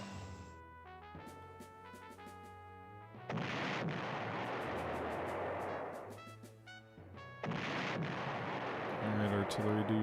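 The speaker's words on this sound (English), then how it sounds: "Artillery, do your thing." Artillery fire in the retro strategy game Panzer General, with deep booming blasts that swell into long rumbling roars, arriving in two or three heavy waves over a musical background.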